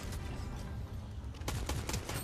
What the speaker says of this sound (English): Yeah, that's him shooting.